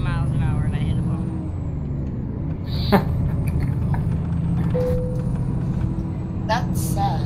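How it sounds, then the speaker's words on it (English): An air-brake hiss from a truck stopping in American Truck Simulator, after a stop from about 40 miles an hour and a bump. It is a short burst over a steady low engine drone, with talk over the top. "I just stopped the truck at like 40 miles an hour and I hit a bump."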